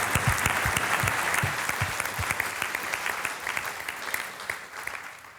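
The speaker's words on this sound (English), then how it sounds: "It deserves a round of applause, I think," Audience applause breaks out at a university veterinary sporting awards gathering, a dense, close burst of many clapping hands that gradually thins and softens toward the end.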